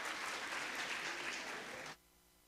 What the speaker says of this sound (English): Please, kind, huge round of applause.